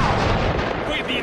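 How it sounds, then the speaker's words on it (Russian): A grenade going off in the Uncharted 3 video game, a loud, dense blast with a rumbling tail that sits amid combat noise and a voice. "Граната!"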